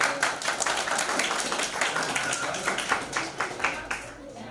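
Students receiving report-card gifts at a school on the first day of semester break are met with steady, brisk clapping from a small group, with a voice speaking over the dense taps.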